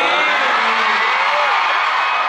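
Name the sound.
crowd cheering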